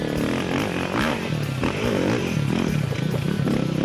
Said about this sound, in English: You can hear that big 500cc motor just churning out the horsepower